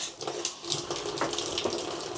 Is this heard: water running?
yes